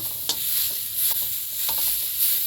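Rice bran being toasted and stirred in a dry pan for rat bait, with a steady bright hiss broken by scraping stirs at irregular intervals, close and alone with no voices.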